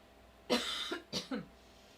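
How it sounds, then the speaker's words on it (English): A single close cough, a harsh burst followed by a couple of shorter rasping hacks, in an otherwise quiet room. "I'm gonna cough maybe."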